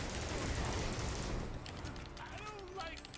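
A barrage gunfire attack from Gotham Knights erupts as a dense, rapid burst of shots for about a second and a half, then gives way to quieter whooshing and ricochet-like game effects.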